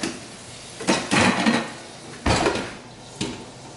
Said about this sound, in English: I'm going to put a lid on this